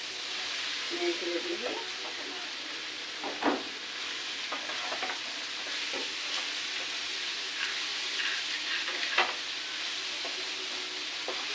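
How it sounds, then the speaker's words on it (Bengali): Ridge gourd and prawns sizzle steadily in a hot pan as they are stirred, with a continuous close frying hiss broken by occasional scrapes and knocks of the spoon against the pan. "এইগুলো দিয়ে এর সাথে বেশ ভালো করে কষাবো নাড়া দিয়ে নাড়া দিয়ে"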